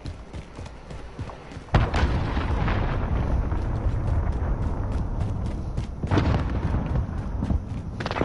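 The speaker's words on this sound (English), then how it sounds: "Enemy cruise missile incoming!" A loud, sudden boom from a cruise missile explosion in a PS4 video game erupts after a quieter stretch of gameplay noise, followed by sustained rumbling and a second burst near the end.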